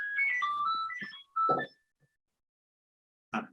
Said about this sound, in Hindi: ये नोकिया की रिंगटोन है।